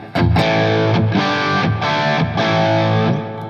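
Electric guitar played through a Bogner Ecstasy Mini distortion pedal at medium gain, several sustained crunchy chords with short gaps between them.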